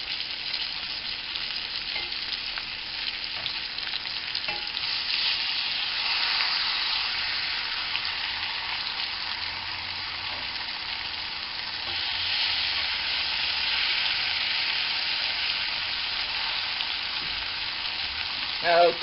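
Flour-dredged liver fries in a skillet with a continuous, even hiss and crackle of hot fat, moderately quiet and unbroken, with no talking.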